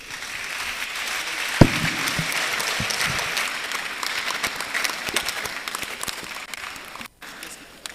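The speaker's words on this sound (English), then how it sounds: "A round of applause for him." An audience claps after a speech at the semi-final of a national public speaking competition, a sustained moderate round of applause in a hall with a sharp knock near the start and a brief dropout near the end.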